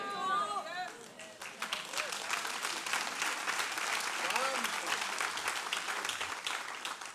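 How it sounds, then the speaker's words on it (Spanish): Audience clapping in a hall, steady and fairly soft, with a voice speaking over the start and murmurs of chatter mixed into the applause. "ese aplauso es de golf"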